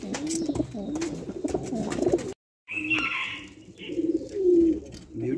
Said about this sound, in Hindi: ये लो तुम्हारे मतलब का कबूतर में ले आया